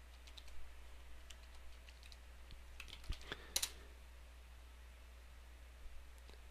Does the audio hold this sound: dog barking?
no